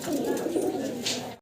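A young white fancy pigeon with full ten flight feathers gives low, rolling coos close at hand, steady for about a second before a brief rustle and abrupt stop.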